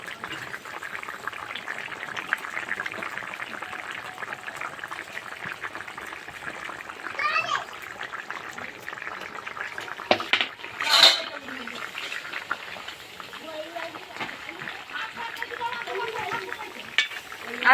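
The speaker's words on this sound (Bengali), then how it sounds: "ঝোলটা ফুটে গেছে, সবজিগুলো হাফ সেদ্ধ হয়ে গেছে।" A rohu fish curry broth with papaya and green banana bubbles in a pot, a soft, steady simmer with occasional clatter of utensils and a faint voice in the background.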